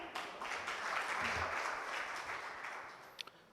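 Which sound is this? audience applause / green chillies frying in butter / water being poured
audience applause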